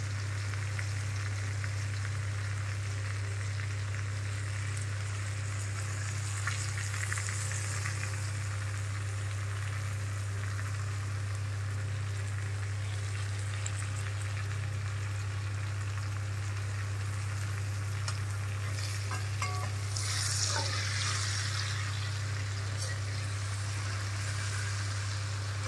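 Chopped onions, three large ones, frying in a pan for a prawn and egg khichuri, giving a steady, even sizzle that holds for the whole stretch, moderately loud with a low hum underneath and no talking.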